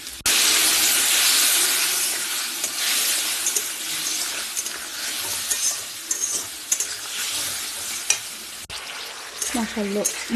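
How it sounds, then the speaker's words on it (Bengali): Ground spices fry and sizzle in a hot pan with potatoes, a steady loud crackling hiss that fills the whole stretch, with occasional stirring clatter and a brief voice near the end. "এখন আমি একটু মশলা দিয়ে কষিয়ে নিই"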